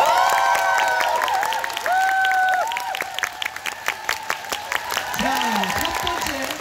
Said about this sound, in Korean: 여러분의 큰 박수와 함께 오늘 뒤란 시작해보도록 하겠습니다